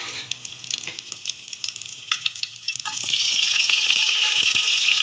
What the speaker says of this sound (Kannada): ಎಣ್ಣೆ ಬಿಸಿ ಆದಮೇಲೆ ಮಸಾಲೆ ಪದಾರ್ಥಗಳನ್ನೆಲ್ಲ ಹಾಕ್ಕೊಂಡು ಸ್ವಲ್ಪ ಫ್ರೈ ಮಾಡಬೇಕು.